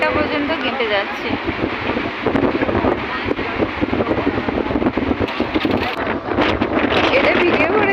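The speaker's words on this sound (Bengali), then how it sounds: "এত জোরে হাওয়া দিচ্ছে আমার ফোনটা পর্যন্ত কেঁপে যাচ্ছে।" Strong night wind on Digha beach buffets a phone microphone with constant rumbling gusts and roar, and voices sound faintly under the noise.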